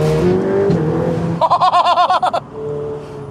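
A sports car engine blips and revs on a downshift in a burst of rapid, crackling pulses that lasts about a second. Quieter engine hum and faint voices come before and after.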